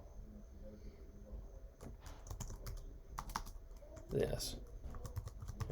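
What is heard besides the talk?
typing on a computer keyboard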